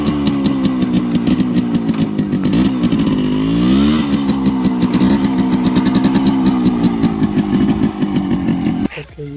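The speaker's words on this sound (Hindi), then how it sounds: "अब स्टार्ट करते हैं और चला के देखते हैं कि आवाज़ कैसा है और स्टार्टिंग कंडीशन कैसा है।" A restored 1998 Yamaha RX100 motorcycle engine runs loud and close with a rapid, rough two-stroke pulse, briefly revving up around the middle before settling back to a steady throb and cutting off near the end.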